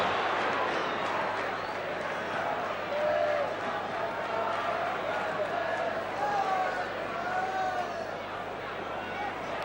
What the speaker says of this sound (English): Crowd not happy with that one.